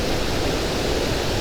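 Cauldron Falls in Glencoe rushing close by, a dense, constant roar of falling water filling the whole clip without a break.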